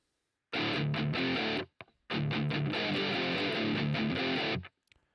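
Electric guitar played through a GarageBand amp simulator with the presence boost engaged, strummed in two loud, sustained bursts separated by a short pause and a brief pick noise, with no talking.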